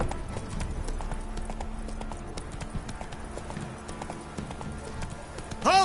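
Horse hooves clip-clop at a steady walking rhythm in the Witcher 3: Wild Hunt video game, close and continuous, with faint game sounds behind.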